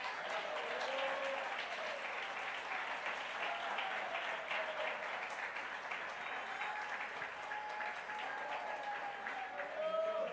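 Sustained applause from a church congregation, dense and even throughout, with some voices calling out over the clapping.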